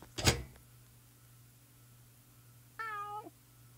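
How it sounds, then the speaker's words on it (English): Grandma's pet cats in a Roblox obby game give a single short, clear meow near the end, with a sharp game sound at the start and a steady low hum underneath. "Grandma's pet cats."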